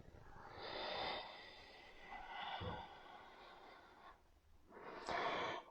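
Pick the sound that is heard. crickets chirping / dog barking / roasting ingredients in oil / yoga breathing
yoga breathing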